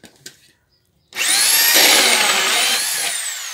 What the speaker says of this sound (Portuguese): eu pego a máquina, a furadeira, copo, né, e furo